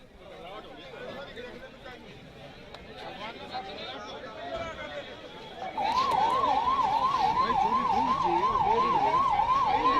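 Ambulance siren wailing in a steady up-and-down pattern, starting abruptly midway and loud and near, at a well rescue scene in Mahendragarh with crowd chatter throughout.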